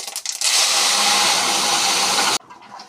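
Kochu leaf sour curry poured from a pot in one loud, sustained broadband rush of liquid lasting about two seconds, stopping abruptly, with faint clatter before and after.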